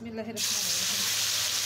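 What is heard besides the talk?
puti fish frying in oil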